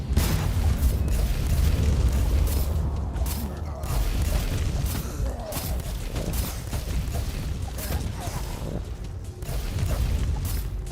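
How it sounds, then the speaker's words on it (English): A heavy damage grenade detonates in the Warhammer 40K: Inquisitor - Martyr video game, a dense booming blast layered with grinding mechanical clatter and creaks that stay loud and continuous throughout. "that is a very heavy damage grenade"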